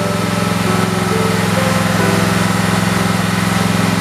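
A 1969 John Deere 112 lawn tractor engine runs steadily up close, a loud, even idle with a constant low drone throughout and no voices.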